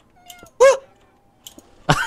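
Cats in the Minecraft video game let out a few short, close meows with pauses between, loud and clear against an otherwise quiet background.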